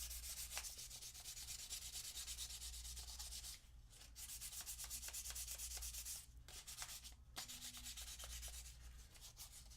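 A 3D print is sanded by hand with steady, close rasping strokes that run almost continuously, with short pauses near the four- and seven-second marks and no talking.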